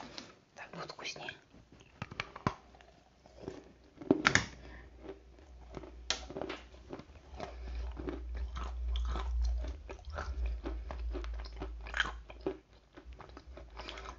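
Close crunchy biting and chewing of a dry snack in an ASMR mukbang, repeated crisp crunches with louder bites around four and six seconds, under soft whispered speech.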